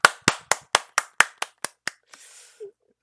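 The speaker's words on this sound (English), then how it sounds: "they start slowly clapping into a more faster clapping transition" Audience hand clapping that begins slow and evenly spaced then quickens, about nine sharp claps ending with a brief scatter.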